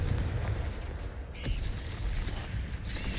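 A Confringo explosive spell goes off in the Hogwarts Legacy game, with booming, rumbling blasts and crackling debris over a dense, loud battle din that fills the whole stretch.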